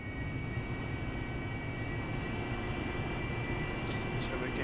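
An AV-8B Harrier jet in the DCS World flight simulator taxis onto the runway, its engine a steady loud roar with a high whine, under faint radio-style talk.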